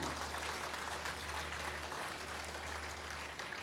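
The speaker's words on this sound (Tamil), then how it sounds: "கைத்தட்டல் அவ்வளவுதானே?" An audience at a Tamil speech event applauds after a poem is recited, a steady, even wash of many hands clapping throughout, with a low hum underneath and no voices.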